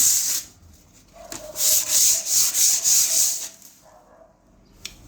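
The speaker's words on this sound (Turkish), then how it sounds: "Bu şekilde köşeli kısmı da ikiye katlıyoruz ve zımparalıyoruz." A short burst of brisk hand sanding on a plaster wall, several scratchy strokes in quick succession, with quieter gaps before and after.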